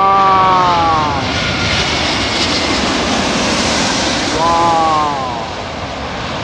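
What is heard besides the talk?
British Airways airliner flying low overhead near London airport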